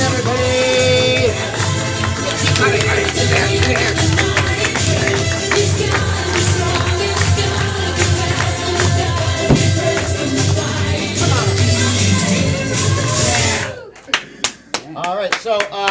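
Audience at a live event clapping loudly and steadily as three people walk back into the room, a dense, sustained burst that stops abruptly, followed by a few scattered claps and voices.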